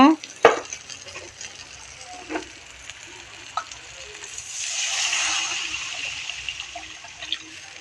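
Water poured into a pan of sizzling fried masala, a sharp splash followed by a steady hiss and bubbling that swells midway, with a few utensil clinks over the frying.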